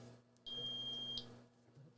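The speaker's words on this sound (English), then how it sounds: "I didn't hear it beep when I put it in" A Keto Mojo blood glucose and ketone meter gives a single sustained electronic beep, about three-quarters of a second long, clear and close over a faint background hum, with no talk.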